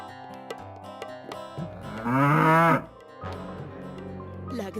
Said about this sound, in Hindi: गाय फिर से रंभाने लगती है